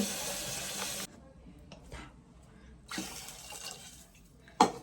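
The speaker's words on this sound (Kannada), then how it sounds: "ಈಗ ಇದಕ್ಕೆ ಹಾಕೋಣ ನೀರು." Water pours into a cooking pot in short splashing bursts, with quieter gaps between pours and a brief sharp clink near the end.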